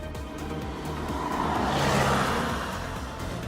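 A 2015 Volkswagen Golf Sportsvan with a 1.6-litre TDI diesel and five-speed manual gearbox drones steadily, rising slightly in the middle as it drives past, with road and tyre noise underneath.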